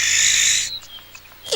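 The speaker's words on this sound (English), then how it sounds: "That owl's a friendly neighbor." An owl calls near a house with one loud, drawn-out, high-pitched cry that fades out, followed by a brief quieter call at the end.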